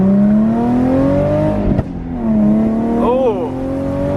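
Nissan GT-R with a new custom exhaust, its engine note rising and holding steady, dipping briefly, then climbing again under a loud, close drone, with a short blip near the end.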